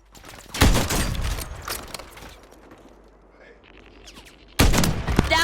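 Gunfire bursts in a Plunder match of a shooter game, with a loud volley at the start, a quieter stretch of scattered shots, and another sharp burst near the end.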